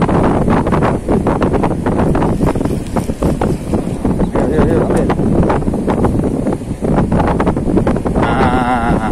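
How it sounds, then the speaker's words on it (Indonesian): Strong wind buffets the microphone on a seaside cliff during shrimp-bait fishing, a loud continuous roar with gusty bursts throughout, while people talk close by over it. "Ini anginnya makin kencang"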